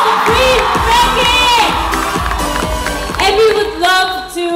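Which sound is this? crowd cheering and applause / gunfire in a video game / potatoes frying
crowd cheering and applause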